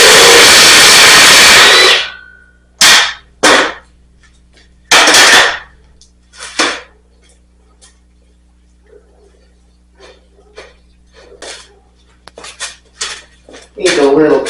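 A 1-inch wrench working loose a bolt on a custom double mini bike, with loud metallic clanks and ratcheting knocks in separated bursts, some heavy scraping at the start and end, and someone talking quietly in between.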